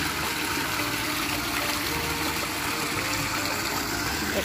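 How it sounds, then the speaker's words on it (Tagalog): Water from a sprinkler watering the grass in a park, a steady broadband hiss and rush of spray that holds evenly throughout with no voices. "Ito yung nagdidilig sa sa damo."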